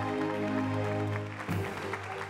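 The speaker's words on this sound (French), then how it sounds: "on va les applaudir très fort" Audience applause for guests on a French live show, as a dense wash of clapping continues steadily for a couple of seconds over a lingering musical tone.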